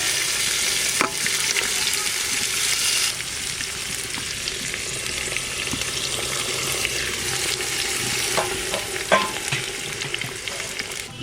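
Duck meat fries in a brass pot as it is stirred, a continuous sizzling hiss with occasional scrapes and light knocks against the metal, no speech.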